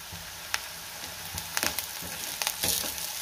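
Grated coconut, cumin and garlic sauté in a pan, a soft, quiet sizzle broken by scattered clicks and scrapes of stirring.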